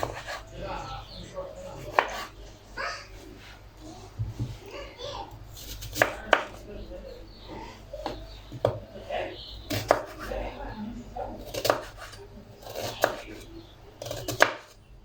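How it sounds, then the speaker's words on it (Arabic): A knife chops tomatoes on a cutting board for a quick salad, with steady close taps recurring every second or so, while someone talks over the chopping. "قطعت البقدونس وبقطع الطماطم"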